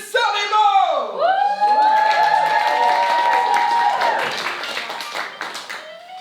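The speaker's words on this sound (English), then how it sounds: "Every night, he'd welcome her to the stage to rapturous applause." Nightclub audience breaking into loud applause and whoops as a singer is welcomed to a cabaret stage, with a bright sustained tone sweeping over the clapping and cheering before it thins out toward the end.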